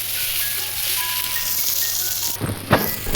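Steady sizzling of ginger-garlic paste frying in hot oil with fried onions, with a brief louder crackle and stir near the end.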